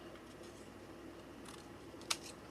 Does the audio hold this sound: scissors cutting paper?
yes